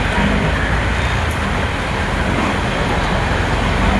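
An auto-rickshaw ride through traffic, with a constant, loud roar of engine and road noise and no distinct breaks.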